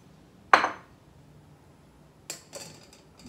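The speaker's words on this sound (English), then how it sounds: "Now we mix it with our sugar." Sugar mixed into batter for a no-bake moist chocolate cake, one sharp clink of a utensil against the bowl followed by a couple of lighter clattering taps.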